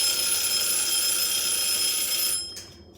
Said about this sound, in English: Hang on, I gotta restart my alarm.